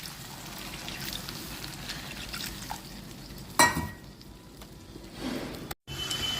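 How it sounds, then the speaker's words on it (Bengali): Water poured into a hot pan of spiced tangra fish curry base with chilli powder, turmeric and salt, giving a steady sizzle and bubbling hiss with a brief sharp splash partway through, close up and without talk. "এবারে জল দিচ্ছি।"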